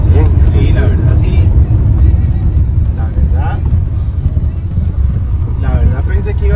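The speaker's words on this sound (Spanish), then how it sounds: "La verdad pensé que iba a ser menos este motor" A 181 hp Ford Bronco engine rumbles steadily while driving, a loud low drone heard from inside the cabin with people talking over it throughout.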